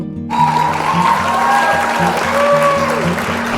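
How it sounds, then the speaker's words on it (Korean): Audience applause at a Korean award ceremony honoring a childbirth-promotion special grand prize winner, a steady clapping wash starting after a brief silence and continuing throughout, with faint musical tones underneath. "축하의 박수를 보내주십시오"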